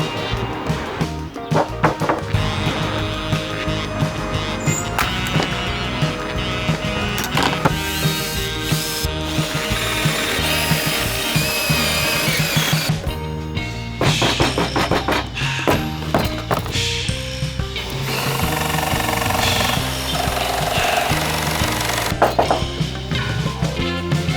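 A power tool cuts an opening in plywood panels on a camper van build, a dense continuous mechanical grinding and rattling that runs loud and steady for over twenty seconds with brief dips.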